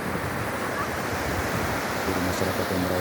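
Waves and wind at a quiet beach near a river mouth, a constant broad wash of surf and breeze, steady and moderately loud, with no voices.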